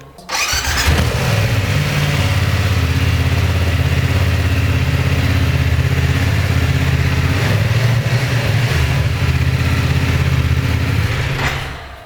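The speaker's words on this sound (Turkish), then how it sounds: "Egzozun sesi çok güzel. Evet çalıştıralım." A BMW F 900 XR two-cylinder motorcycle starts and idles steadily with a low, throbbing exhaust rumble, loud and close, for about eleven seconds before cutting off.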